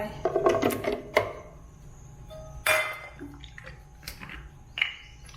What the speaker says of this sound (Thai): เราจะใส่น้ำก่อนนะคะ